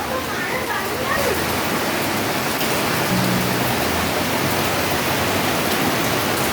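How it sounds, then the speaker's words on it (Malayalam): Heavy rain pours down in a steady, dense hiss that fills the whole clip without a break, close and loud. "നല്ല മഴയാണ്."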